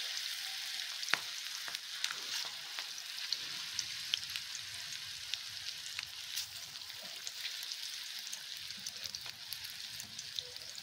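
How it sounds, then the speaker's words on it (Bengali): Cabbage fritters coated in gram flour and cornflour fry in oil with a soft, crackly sizzle and scattered pops, fairly faint and even throughout, with no talk. "এরপর এইভাবে ভেজে নেওয়া হলো।"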